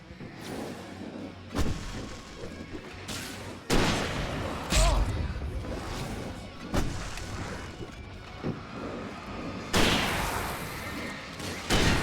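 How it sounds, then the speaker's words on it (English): Fireworks going off in the video game Alan Wake, a string of sharp booming bursts spaced irregularly over about twelve seconds with crackling noise between them. "I can set off more of the fireworks from here and help you out!"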